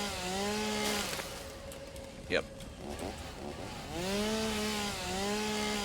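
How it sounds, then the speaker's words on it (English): A chainsaw in the video game Satisfactory revs while cutting through bushes, droning loudly at the start, dipping, then surging again near the end, with someone talking over it. "So nice that the chainsaw does like a whole like area around the bush."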